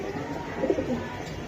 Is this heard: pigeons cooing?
yes